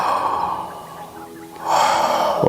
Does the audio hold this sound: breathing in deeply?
yes